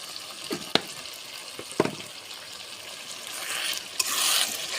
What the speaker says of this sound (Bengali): এবার এসব কষাচ্ছি